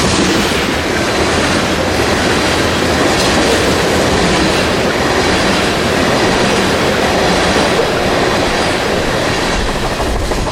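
Ethanol tank freight train rolling past at a Central Florida railfanning spot, a loud, steady wall of wheel rumble with continuous clickety-clack over rail joints for the full stretch, close by, no voices.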